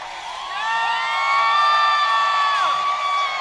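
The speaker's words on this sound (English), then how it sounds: "When Svetch goes by, the crowd gets loud" A hockey crowd at a Carolina Hurricanes Stanley Cup championship celebration swells into loud cheering and high whoops as Svechnikov passes by, building after a quieter start and holding at full volume.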